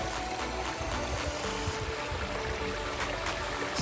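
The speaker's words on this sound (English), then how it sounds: "How the water just splits around the rocks." Water in a pondless waterfall stream built from Oklahoma boulders flows and splits around the rocks with a steady, soft rushing babble and faint splashes that continue throughout at a moderate distance.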